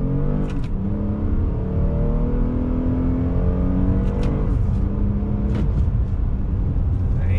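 2021 Toyota Highlander XSE AWD accelerating hard on throttle, a loud, steady engine roar with rising pitch sweeps as it climbs through the gears, heard from inside the cabin with no talking.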